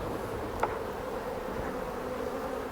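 Honey bees buzz steadily around an open hive during a beekeeping inspection, a soft, continuous close drone with one bee passing briefly nearer.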